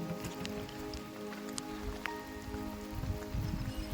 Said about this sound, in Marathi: बघा कसा मस्त झिम झिम झिम झिम पाऊस पडतोय